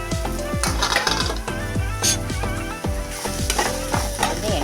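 Chopped bottle gourd sautéing in oil in a pan, a continuous close sizzle with repeated scraping and metallic clinks of a spoon stirring against the pan.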